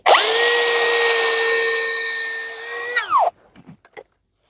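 A power drill whirs loudly and steadily for about three seconds, then winds down quickly, followed by a few faint clicks and knocks.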